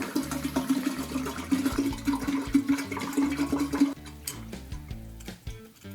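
Whipped cream vodka glugs from a freshly opened 750 ml bottle into a container, a steady close liquid pour for about four seconds that then tapers off into drips and small clinks.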